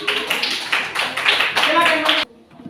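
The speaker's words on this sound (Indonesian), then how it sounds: "mari kita sambut teman-teman dengan tepukan tangan" Classroom clapping from a group of students welcoming a presenting team, a dense patter of hand claps with some voices mixed in, stopping abruptly near the end.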